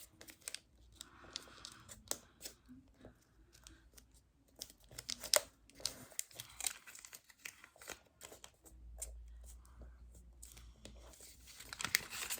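Paper being creased and folded by hand for an origami squirrel, with soft crinkling, rustling and scraping touches scattered through a quiet room, and a few sharper crisp creases standing out.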